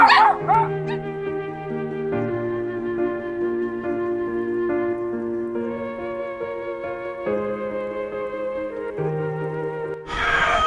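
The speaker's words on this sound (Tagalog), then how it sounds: "Dami nyo palang aso at Evelyn." Dogs howl and whimper in long, drawn-out wavering tones, several voices overlapping steadily, ending in a sudden burst of noise.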